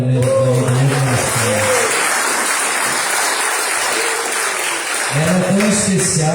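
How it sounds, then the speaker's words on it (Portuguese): A church congregation applauds during a worship service, broad clapping running through the middle, with voices rising over it at the start and end. "Aplausos ao Senhor pela primeira vez."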